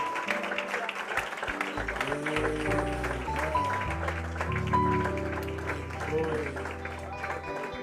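A church congregation applauds, moderately loud and continuous, mixed with voices and sustained organ or keyboard music.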